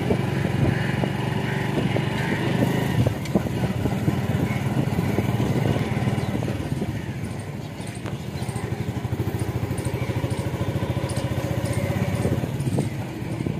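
A motorbike runs steadily with a continuous engine drone and road rumble throughout, loud and close, as if heard while riding along, with light rattling and no clear talk.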